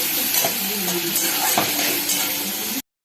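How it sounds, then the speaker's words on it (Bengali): Minced meat fries with ground pepper and salt, giving a loud continuous sizzle with stirring and scraping of a utensil against the pan, cut off abruptly. "গোলমরিচের গুঁড়ো, লবণ আর নুন দিয়ে একটু ভেজে নিলাম"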